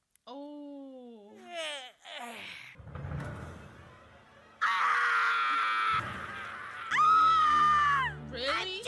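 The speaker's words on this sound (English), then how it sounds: "she screamed like, oh my god" A cartoon woman screams in an animated comedy scene, with high wailing cries rising and falling over several seconds, mixed with exaggerated groans and shrieks and nearby voices.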